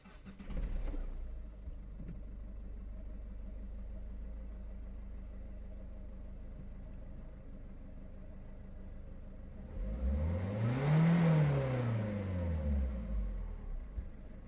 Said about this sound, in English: now let's turn the engine on, give it a bit of a rev